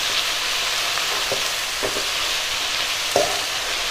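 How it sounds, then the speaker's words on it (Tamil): Mint leaves for pudina chutney sizzle gently in a pan, a steady soft hiss broken by a few light scrapes and clinks of the stirring spoon. "இதையும் நல்லா கலந்து விட்டுக்கலாம். 1-2 நிமிஷம் வதக்கினா போதுங்க, ரொம்ப நேரம் வதக்க வேண்டியதில்லை."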